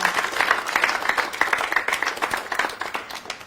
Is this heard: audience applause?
yes